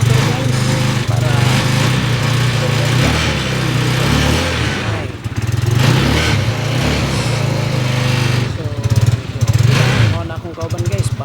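A motorcycle engine starts and runs with a steady, loud mid-pitched drone, the throttle rising briefly near the end; the rider talks over it at a morning market outing.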